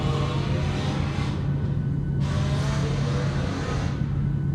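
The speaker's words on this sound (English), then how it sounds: "Do you hear that car, dude?" Loud rumbling engine of a car revving down the road outside, a continuous low roar with steady pitch and a couple of brief surges, no talk.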